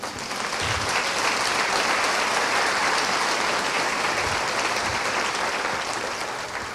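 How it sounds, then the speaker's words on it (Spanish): A church congregation applauds during a sermon, dense, loud and sustained clapping from a large crowd that fills the space evenly with no voice over it. "¿Le damos un aplauso a Dios por eso?"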